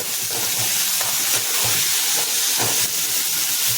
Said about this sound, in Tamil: நன்றாக வதக்கி கொள்ளவும்